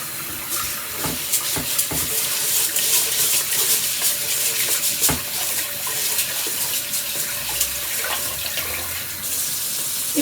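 Rice being rinsed by hand for Korean braised beef short ribs (galbi-jjim): water swishes and sloshes steadily in a bowl near a running tap, with brief splashy bursts as the grains are agitated and the water is poured off.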